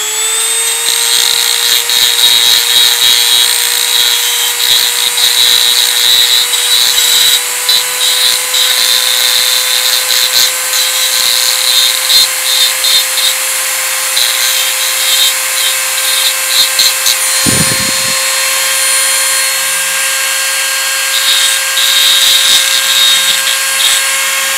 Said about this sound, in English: grab your Dremel with your grinding stone in place, put it on high, and let's grind down the edge until it's smooth